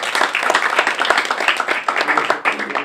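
Applause from the audience at a scholarship reception, steady close clapping filling the whole stretch with a few voices mixed in.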